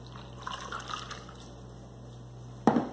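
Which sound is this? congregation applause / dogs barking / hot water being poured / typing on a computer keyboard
hot water being poured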